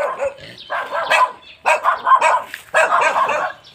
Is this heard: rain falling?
no